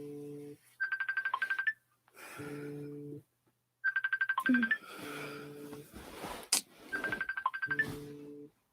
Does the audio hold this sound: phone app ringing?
yes